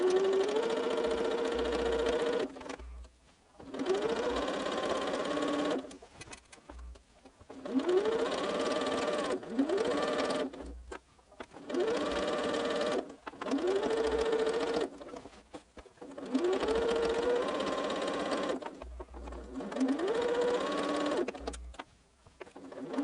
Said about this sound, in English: I'm going to sew this along, and I'll probably speed up this section